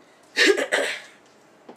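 A single short cough, two quick harsh bursts close to the mic, followed by quiet and a faint breath.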